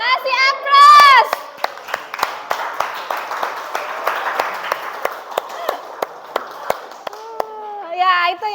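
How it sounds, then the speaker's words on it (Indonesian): Children clapping together in a classroom, a short burst of applause with claps scattered through it, faint children's voices under it and at the edges. "Agesta, kasih aplaus"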